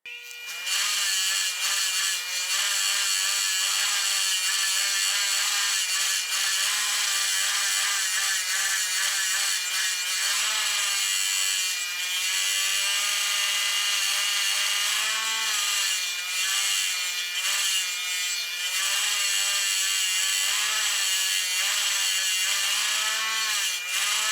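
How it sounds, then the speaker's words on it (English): An 8-inch soft brass wire wheel whirs continuously and loudly while grinding black paint off an antique 1854 Parker parallel swivel vise, a steady, harsh abrasive hiss with slight shifts in pitch as pressure changes. "we got a brand new brass wire wheel, very soft brass wire wheel"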